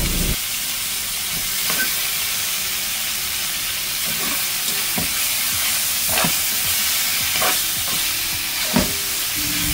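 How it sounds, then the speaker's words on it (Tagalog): Pork belly sizzles steadily in a pan while cooking for sinigang, a constant bright hiss broken by several sharp scraping and clanking strokes as it is stirred. "Wait natin para mag golden brown ang pork."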